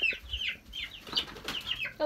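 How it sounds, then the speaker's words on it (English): Chicken clucking up close in a quick, uneven series of short clucks and squawks, fairly soft with no talking. "There's my little chicken."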